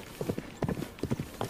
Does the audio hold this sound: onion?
no